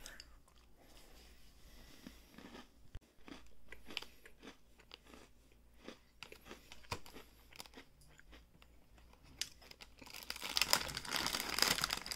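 Limited edition Oreo Coca-Cola cookies with popping candy are crunched and chewed close up, with soft wrapper crinkles and a louder burst of crinkling near the end.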